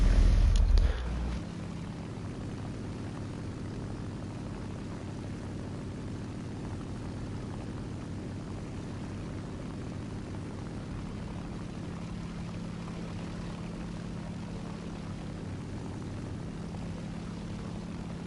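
A steady engine drone from an airplane in a video game flying past an enemy airfield, holding at an even level throughout after a brief louder start.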